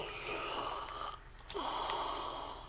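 A drawn-out human yawn, a long breathy inhale that pauses and then swells again on the exhale, close and fairly quiet.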